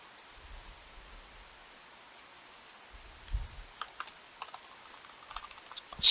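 Someone types on a computer keyboard with scattered, faint key clicks over quiet background hiss, growing busier toward the end with a louder final burst.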